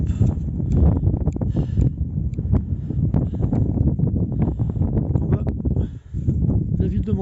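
Strong, continuous wind buffeting close by at night in Menton with gusty rumbling and rustling, under a person talking throughout.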